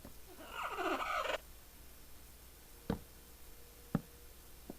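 A short bird gobble like a turkey in the Creeper Island video game, about a second of warbling calls, then two sharp clicks over a quiet background.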